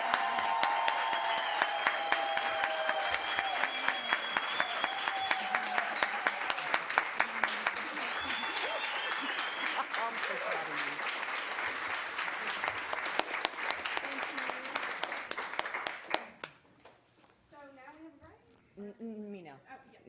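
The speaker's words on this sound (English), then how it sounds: "Can we give the president a round of applause?" A congregation at a Unitarian Universalist fellowship service gives sustained, dense applause for about sixteen seconds before it fades out and speech takes over.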